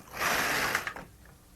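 Brother LK150 knitting machine carriage pushed across the needle bed knitting a tuck stitch, a single close, smooth rasping whir with clicking needles, about a second long before it stops.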